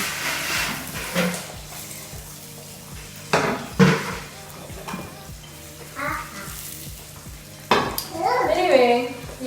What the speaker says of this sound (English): I'm just trying to fry one. Oopsie. Fry one egg at a